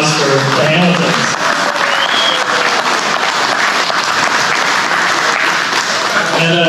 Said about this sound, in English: Let's give a round of applause for the Hamiltons.